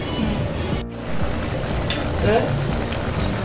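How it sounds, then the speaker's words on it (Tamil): Drumstick gravy with milk bubbles and sizzles steadily in a pot, a close, continuous crackling hiss with a brief break near the start. "நல்லா அந்த தண்ணி பால் விட்டு நல்லா கொதித்து திக்காக வந்துருச்சு"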